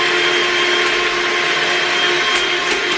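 A blender whirs continuously while mixing a homemade ice cream mixture, a loud, steady, close motor whine with no break or talk.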